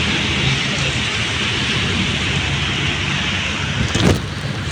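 Strong typhoon wind roars steadily during a storm in the Philippines, a dense continuous rush mixed with rain hiss, loud and close with buffeting against the microphone and a brief louder gust near the end.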